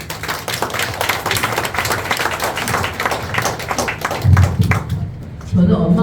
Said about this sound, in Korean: 유정재님 박수 보내주세요.